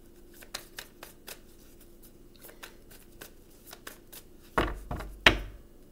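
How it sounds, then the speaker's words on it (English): A deck of playing cards being shuffled, with soft riffling clicks throughout and two louder, sharper riffles near the end, close and fairly quiet, with no voices. "Last shuffle."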